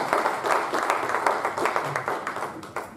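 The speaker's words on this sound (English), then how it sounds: "So hope you join me in just giving them some joint applause." Audience at a district heating and cooling seminar's closing session claps steadily in a moderate, close round of applause with dense, irregular hand claps.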